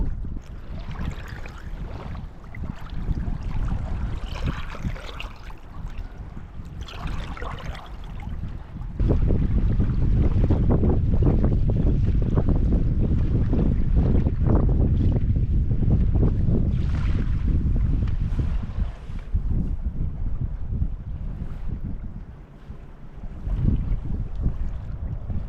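Loud, steady wind buffets the microphone while a canoe is paddled along the Caledonian Canal on the Great Glen Canoe Trail, with faint water sounds in the background and no talking.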